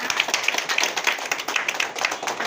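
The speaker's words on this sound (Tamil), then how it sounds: "நம்ம வந்து நல்லா கைத்தட்டலாம்." An audience claps steadily at a village gathering in Sholavandan, a dense, continuous patter of many hands with no voices over it.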